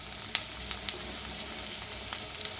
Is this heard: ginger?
yes